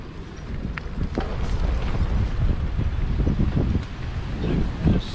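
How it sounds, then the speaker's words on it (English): A stiff, cold north wind batters the microphone on a bicycle tour along national cycle network routes, giving a loud, gusty rumble that swells and eases for the whole stretch, with no speech. "There's a stiff north wind today, making it feel pretty cold."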